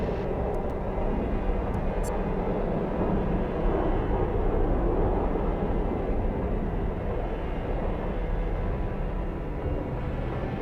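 Harrier jet roaring through an airstrike in the video game Broken Arrow, a loud, steady wall of engine rumble and rushing noise that holds for about ten seconds with no talk.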